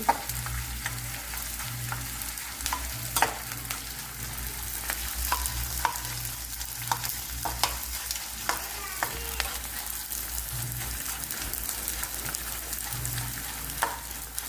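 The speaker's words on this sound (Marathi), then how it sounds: "छान असं तळून घेणार आहे डिंक" Edible gum (dink) frying in oil for a Janmashtami mawa sweet, a continuous crackling sizzle with frequent sharp pops and occasional stirring scrapes, close and steady, with faint background hum and no talk.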